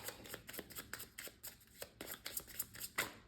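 A deck of game cards riffled and shuffled during a tabletop board game, a run of quick crisp flicking bursts repeating in rhythm, close and clear with no voices.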